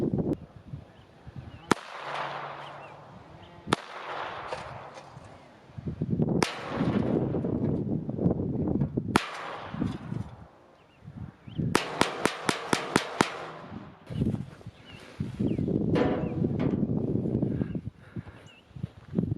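Sharp .22 pistol shots from a Beretta U22 NEOS at an outdoor range, several single cracks spaced seconds apart, then a quick rapid string of about eight shots, with rustling and movement noise between them.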